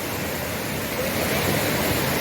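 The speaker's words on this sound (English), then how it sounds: "And there's the waterfall" Waterfall near Luang Prabang, heard as a steady broadband rush of falling water that stays continuous and fairly loud throughout, with no voices.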